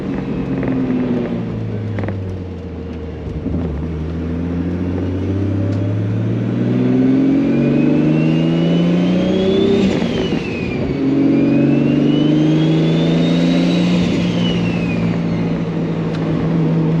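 Car engine fitted with a Precision 7675 dual ball bearing turbo revving while warming up, loud close engine note rising and falling through several revs over a steady idle, with a faint turbo whistle sweeping up and down, no voices.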